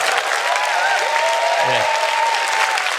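Lecture audience applauding a guest speaker who is an opera singer, a steady, full round of clapping throughout, with a faint sustained tone and a brief low sound in the middle.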